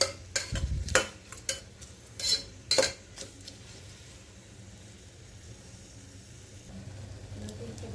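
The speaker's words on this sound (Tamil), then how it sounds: "இது நல்லா ஆனியன் வந்து பொன்னிறமாக வர்ற வரைக்கும் நல்லா வதக்கிக்கலாம்" Onions cooking in oil and ghee in a pan, stirred with a utensil: several scraping and clanking stirs near the start, then a soft, steady sizzle carries on quietly to the end, with no speech.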